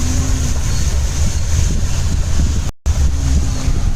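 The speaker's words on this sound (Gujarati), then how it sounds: "પવન આવે છે" Wind blowing hard into the microphone outdoors near a temple, a loud continuous low rumbling buffet that fills the whole clip, briefly cutting out for a moment before resuming.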